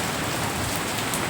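Heavy rain mixed with hailstones pours down during a storm, a dense and steady close hiss with no break over the short stretch. No voices.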